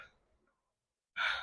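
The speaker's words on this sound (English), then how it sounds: "I don't know why I keep yawning" A person yawns, a faint exhale fading out, then a loud breathy drawn-out inhale rising near the end, close and alone with no talking.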